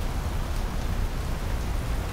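Steady rain falls throughout, an even, dense hiss with a low rumbling wash and no distinct drops or talk, fairly loud and close.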